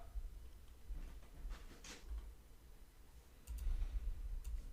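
A computer mouse clicks faintly a few times during web development work, the soft ticks sitting over a low background hum, with no speech.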